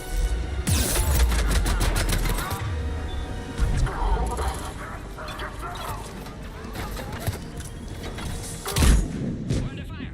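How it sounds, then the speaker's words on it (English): Gunfire in the Mass Effect 3 video game: bursts of rapid shots and heavy booming blasts crack out in clusters, mixed with radio voices and battle noise. "We're under fire."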